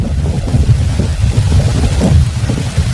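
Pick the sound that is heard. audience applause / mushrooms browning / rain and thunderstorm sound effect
rain and thunderstorm sound effect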